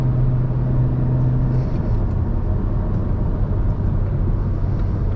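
Toyota Corolla XRS engine pulling hard on a spirited mountain road drive, a steady loud low drone with a brief rising tone early on, continuous throughout with no talking.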